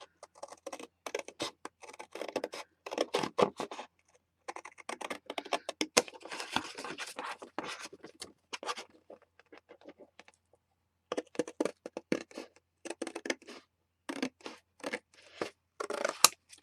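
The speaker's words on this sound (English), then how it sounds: "It's just as quick for me to use scissors" Scissors snip through paper for handmade mini journal covers, a close, quiet series of irregular crisp cuts in bursts separated by short pauses, with no talking.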